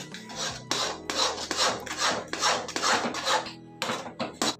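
Chana dal halwa mixture being stirred and roasted in a pan over a medium-low flame, a close, loud, rhythmic series of rasping scrapes of a spoon against the pan, about ten strokes in steady succession.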